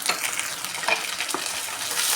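Cumin, mustard seeds, chana dal and curry leaves sizzle in hot oil while being stirred for a dal tempering, a close, dense crackling hiss with light scraping of the spoon and no voices.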